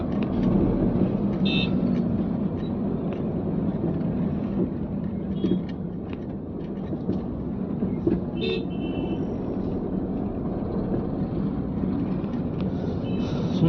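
Dense road traffic near the cable bridge at Madhapur by Durgam Cheruvu, Hyderabad: a constant roar of passing vehicles with scattered horn toots, heard from close by.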